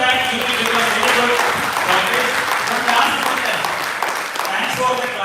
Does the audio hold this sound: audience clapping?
yes